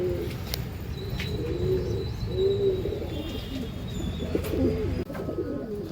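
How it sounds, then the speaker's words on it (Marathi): Domestic pigeons, including a Kakinada breed male, coo in a steady run of soft low rounded calls close by, with faint chirps and occasional light clicks in the background and no talking. "मित्रांनो बघा कबूतर चाललेले आहेत."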